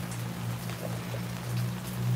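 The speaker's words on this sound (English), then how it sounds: "especially the fact that we're getting this rain" Rain falling in a steady soft patter with a few brief drip-like taps, heard over a constant low hum, fairly quiet and even throughout with no speech.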